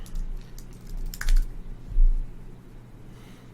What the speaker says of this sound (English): So if I type in human resources director